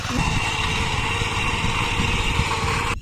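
A tractor engine running in a farm field, a steady loud droning rumble held close throughout before cutting off abruptly at the end.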